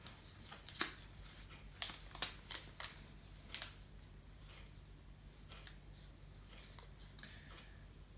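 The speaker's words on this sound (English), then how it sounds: "release the packing paper" Backing paper peeled off kinesiology tape, with a series of sharp crackling rips and snaps in quick, uneven succession early on, then quiet rustling; faint and close in a still room.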